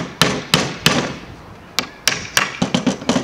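Wooden canvas stretcher bars are tapped together to fit the corner joint, producing a series of sharp, close knocks in irregular clusters, roughly ten hits over a few seconds.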